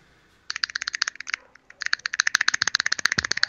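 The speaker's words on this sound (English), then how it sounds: "I'm sure that you've already heard my good friend John clicking away at his keyboard" Fast, crisp clicking of a computer keyboard, a close run of keystrokes that stops for a moment and then carries on, with nobody speaking.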